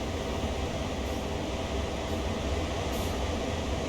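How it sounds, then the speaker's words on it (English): A train in Train Sim World rolls up from behind on the Horseshoe Curve line and comes to a stop beside idling Norfolk Southern GP38-2 locomotives, heard as a steady loud rumble of rail noise and engine drone. "Another train come from behind and stopped."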